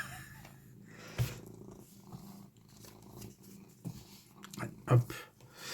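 A cat purring on a person's lap makes a low steady rumble, with a few louder bumps and rustles as cards are shuffled close by.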